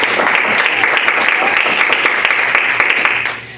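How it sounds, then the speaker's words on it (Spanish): A church congregation breaks into sustained, loud applause, dense clapping from many hands filling the room before tapering off near the end. "Un fuerte aplauso al Señor."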